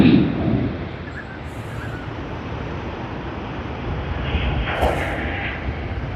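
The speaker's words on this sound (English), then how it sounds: "And this is Delta DL40 to Los Angeles on its Airbus" A Delta Airbus A350-900 jet at Sydney Airport gives off a loud, steady broadband roar that holds evenly throughout, with a brief heavier burst at the very start.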